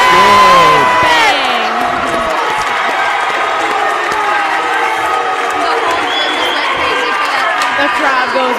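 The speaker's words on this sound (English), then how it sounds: "The crowd goes wild." Basketball crowd at a boys varsity high school game erupting in wild cheering and whoops after a made three-point shot, loud and sustained throughout, with a brief shrill whistle-like tone near the start.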